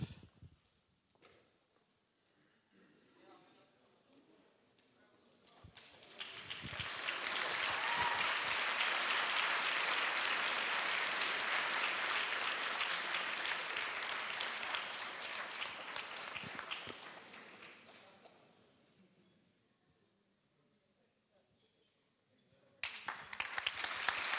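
Broad applause at a closing ceremony in Riga, Latvia swells in, joined by cheering that grows louder, holds for several seconds, then fades to near quiet before another burst.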